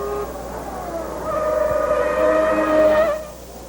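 A Formula 1 car at speed in practice for the 1992 Australian Grand Prix, its high engine whine rising in pitch and loudness as it nears, then dropping away quickly as it passes.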